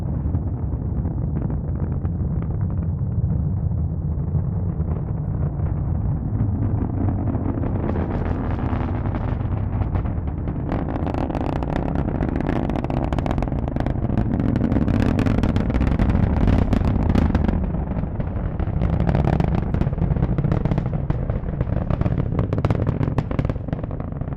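A SpaceX Falcon 9 rocket lifts off on nine Merlin engines with 1.7 million pounds of thrust, a continuous heavy crackling roar that grows rougher and louder, with dense popping bursts through the middle and end.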